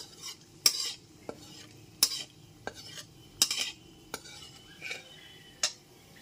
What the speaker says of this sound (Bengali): গ্যাসের ফ্লেমটা লোতে রেখে ফোড়নটা হালকা করে ভেজে নেব